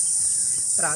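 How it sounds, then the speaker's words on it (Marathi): Crickets in a forest at dusk keep up a steady, shrill, continuous trill the whole time, with a faint voice-like sound entering only at the very end. "जो किरकिर आवाज येतो आहे"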